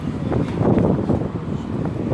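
Strong wind gusting against the microphone during a canal tour in Copenhagen, a loud, rough, continuous rumble with uneven surges and no talking.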